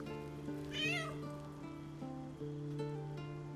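Cat meowing in the Baldur's Gate 3 video game, a single drawn-out meow rising then falling, heard close over a steady droning game soundtrack.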